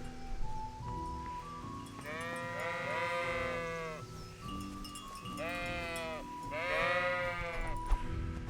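Sheep bleat in the medieval role-playing game Kingdom Come: Deliverance, two long wavering calls standing out over a steady ambient game soundscape with faint background tones.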